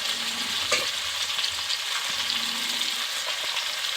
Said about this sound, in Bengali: এগুলোকে একসাথে আর একটু ভালো করে ভেজে নেব।